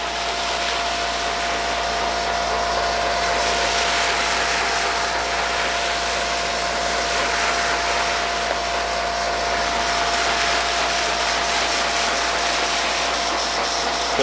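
A cheap no-dilution foam cannon sprays foam with a continuous rushing hiss that surges slightly as it spurts, alongside a thin steady whine, with no talking.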